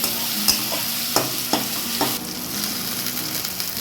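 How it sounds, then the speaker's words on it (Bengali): Chicken pieces drop into a pan of fried garlic and sizzle steadily, with a few sharp stirring and scraping clatters in the first two seconds over a continuous hiss. "রসুন ভাজাটা হয়ে গেছে, এইবার এতে আমি মাংসটা দিয়ে দেবো"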